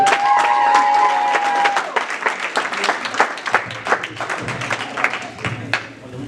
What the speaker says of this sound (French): Est-ce qu'on peut acclamer pour cette soirée?